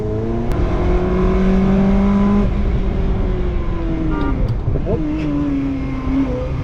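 A Ferrari 360 Spider lapping the Streets of Willow track, heard from inside the cabin: a loud steady engine drone that rises in pitch, breaks off at gear shifts and climbs again.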